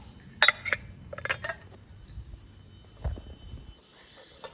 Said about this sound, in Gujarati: હવે છે ને આપણે આપણો આ મિશન સંભાળી લઈએ વાસણ ઉટકવાનું